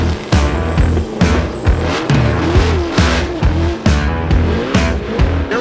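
Mustang burnout cars at a Ford Nationals event roar loudly and repeatedly as they accelerate, with revving engines and squealing tires in a pulsing, up-close run of noise.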